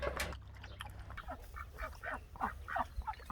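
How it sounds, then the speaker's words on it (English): Farm ducks quack in a rapid series of short, loud calls, close by, against low rumbling background noise. "Very happy ducks."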